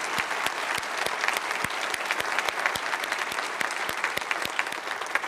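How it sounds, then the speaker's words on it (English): An audience at a history lecture on the African American West claps steadily and evenly throughout, with individual sharp claps standing out from the dense applause. "I think he deserves a round of applause."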